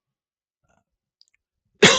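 A single sharp cough bursts out loud and close at the very end, after near silence.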